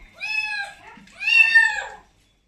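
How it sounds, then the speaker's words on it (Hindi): A cat gives two clear, drawn-out meows in quick succession, close and loud against a quiet room. "ये भगोड़ा बिल्ली हो गई"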